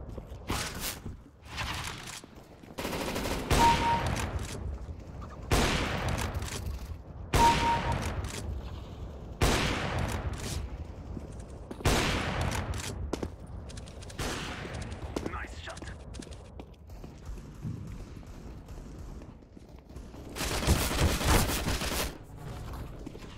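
Repeated bursts of video game gunfire, loud and close, firing in clusters separated by short pauses throughout, with a few quieter mechanical clicks between volleys.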